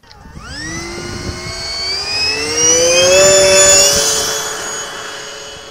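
An electric ducted fan motor on an RC airplane spools up from quiet into a loud, steady high-pitched whine with rising harmonic tones, holding strong before easing slightly toward the end, with no talk.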